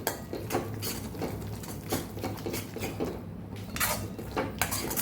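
Jaggery and flour being sautéed in a pan over a very low gas flame, with a spoon repeatedly scraping and clinking against the pan in an irregular rhythm, close and moderately loud, no talking.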